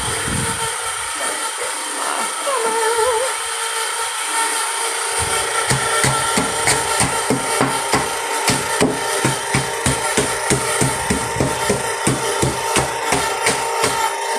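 A hammer strikes ice again and again in a fast, steady rhythm, the loud cracking blows continuing after a brief quieter start.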